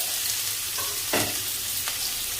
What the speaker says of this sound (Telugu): ఉల్లిపాయ వేసుకొని